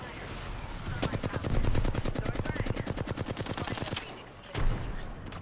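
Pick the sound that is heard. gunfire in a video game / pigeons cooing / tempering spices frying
gunfire in a video game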